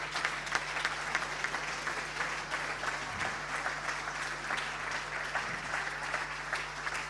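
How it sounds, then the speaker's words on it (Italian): Steady, dense applause from a large audience at a regional Paralympic sports gala in Veneto, loud and continuous with a crowd-wide wash of clapping and no speech over it. "Facciamo un grandissimo applauso per Giulia Pertile di Aspea Padova."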